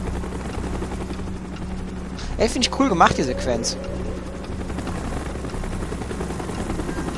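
A steady helicopter rotor drone rumbles under gunfire and combat effects in Call of Duty Black Ops, while someone talks over the game sound partway through.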